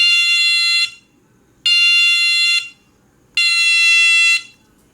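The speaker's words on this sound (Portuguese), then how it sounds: "quando pressionarmos aqui o interruptor de pressão, o alto-falante vai emitir o som" Electronic loudspeaker tone from an integrated-circuit demonstration circuit on a 9-volt supply, sounding each time a push switch is pressed: three loud, steady buzzing beeps of about one second each, evenly spaced with short silent gaps.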